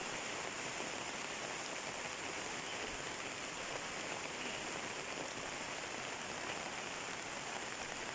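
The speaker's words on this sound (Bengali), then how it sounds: "এখানে দেখেন বৃষ্টি হইতেছে" Rain falling outdoors among areca palms in Bangladesh, a soft, even hiss that holds steady throughout with no voices.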